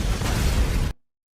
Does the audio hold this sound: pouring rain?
no